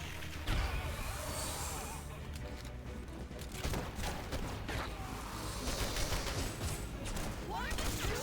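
Gunfire in the video game Red Faction: Guerrilla, scattered shots and bursts of firing, fairly faint and mixed with the game's background noise, with a voice heard intermittently.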